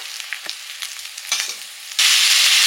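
Spices are dropped into hot oil left from frying prawns: light clinks and soft sizzling, then a sudden loud, steady hiss of tempering that continues to the end.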